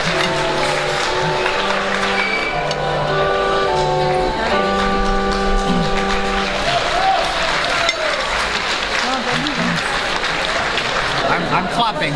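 A crowd claps in a French bouchon restaurant, a sustained burst of applause with clinking, while voices talk and a melodic tone plays over the start.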